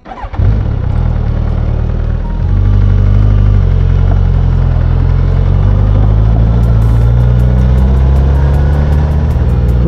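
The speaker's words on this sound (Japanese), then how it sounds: "ではエンジンスタート。" A car engine cranks and catches near Kumano Taisha before a drive on a rough back road, then settles into a loud, close, steady idle rumble.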